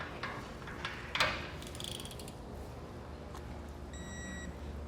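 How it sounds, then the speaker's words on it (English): A torque wrench ratchets while tightening the bolts on a Curt QuickPin no-latch trailer coupler. The clicks are faint and sparse over steady background noise, with one sharper click standing out. "you want to come back with a torque wrench and get them torqued down to the specific torque rating"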